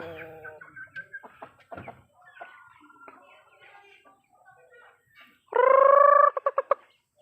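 Black Umber rooster and chickens in a small backyard farm, with soft clucks and calls early on, then a loud close crow near the end followed by a few short clucking bursts.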